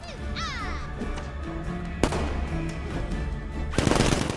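Gunfire aimed at Harley Quinn in Batman Arkham Knight, with a sharp report near the middle and a louder burst of shots toward the end over a steady game background.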